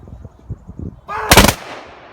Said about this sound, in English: Firing to your right. Ready. Aim. Fire.